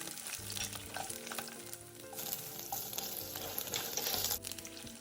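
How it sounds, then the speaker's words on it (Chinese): Garlic cloves and ginger slices stir-fried in melted rock sugar caramel, a continuous crackling sizzle under a faint background tone, with stirring scrapes and no voices. "接着加入蒜瓣与姜片，拌炒出香味。"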